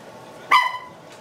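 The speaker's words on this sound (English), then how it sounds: "Gracie, we're barking." Long-haired blue and white Chihuahua giving a single sharp, high-pitched bark, close and brief against a quiet room.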